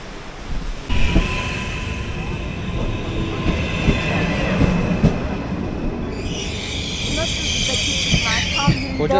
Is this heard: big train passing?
yes